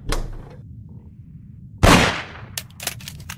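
A single sharp gunshot cracks out loud and close midway, followed by a few quieter clicks and knocks, with little else around it.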